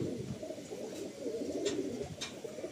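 Ablook male pigeon cooing in a Madrasi pigeon loft in Kolkata, low rolling coos repeating steadily over a busy background with a couple of faint higher chirps.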